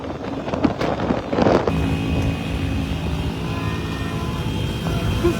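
A motorcycle rides along a street amid a crowd celebrating Morocco's victory, its engine a loud, close, continuous drone with wind buffeting the microphone and early rumbling bursts that settle into a steady hum.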